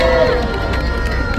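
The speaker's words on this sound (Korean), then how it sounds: "여러분들 그렇게 생각하시면 큰 박수 한번 주십니다." A brief, loud burst of crowd noise with cheering and shouted voices at a professors' emergency rally denouncing the impeachment, a dense, mixed swell of many people.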